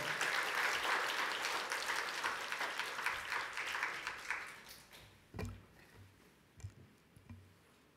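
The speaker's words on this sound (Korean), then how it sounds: "우리 박수로 한번 환영하면 좋겠습니다" A church congregation at a Wednesday service claps to welcome a pastor to the pulpit; a moderate wave of applause fades out after about four seconds, followed by a few scattered knocks and quiet room sound.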